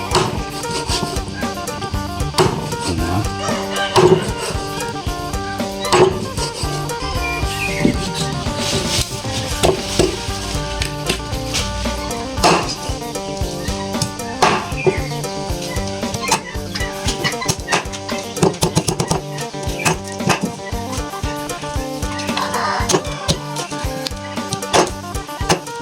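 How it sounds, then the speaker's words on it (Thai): A blade chops chicken on a cutting board in uneven, repeated chops, close and fairly sharp, with rubbing and scraping between the hits. "สับไก่ก่อนเลย ก็สับเป็นชิ้น"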